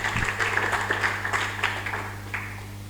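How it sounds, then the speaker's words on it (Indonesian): Church congregation clapping in a brief, moderately loud burst that thins out toward the end, with a steady low hum running beneath. "Tepuk tangan dulu buat Tuhan Yesus."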